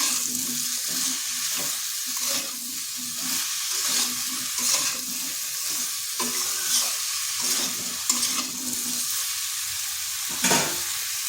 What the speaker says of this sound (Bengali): এরপর এগুলো একটু ভালো করে কষে নিচ্ছি।